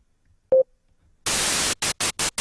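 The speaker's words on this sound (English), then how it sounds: "you just get pure noise." Bursts of harsh synthesized white noise from an FL Studio noise-wave plugin switch on and off abruptly, one long burst then three short ones, preceded by a brief electronic beep.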